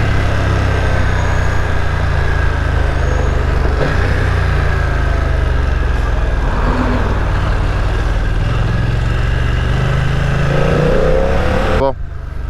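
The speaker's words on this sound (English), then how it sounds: "But this sounds nice. It's got a nice little growl to it." Engine and exhaust of a 2020 BMW F900R motorcycle give a steady low growl, loud and close throughout, with someone talking over it before the sound drops away near the end.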